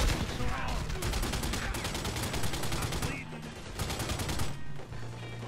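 Rapid bursts of gunfire in The Godfather 2 video game, dense overlapping shots and automatic fire crackling loudly and almost without pause.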